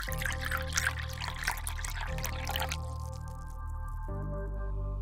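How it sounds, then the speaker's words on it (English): Tea being poured into a cup in a close-up, intimate setting, a steady liquid stream with soft drips and trickles that runs continuously for several seconds before the flow changes and settles near the end. "Let me pour you a cup of tea."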